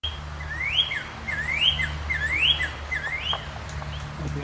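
A loud, sharp bird call repeats four or five times in quick rising slurs, clear and close over a low steady background hum, with no talking.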